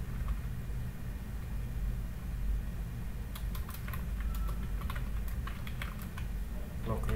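Typing on a computer keyboard in a quiet room, with bursts of quick clicky keystrokes in the second half over a low steady hum.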